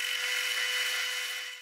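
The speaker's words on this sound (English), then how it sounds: "Now I just need to go over to the drill press and drill out the holes." A drill press boring holes in wood during the making of a wooden watch, a steady high-pitched whirring drone that holds near and loud for about a second and a half, then tails off slightly at the end.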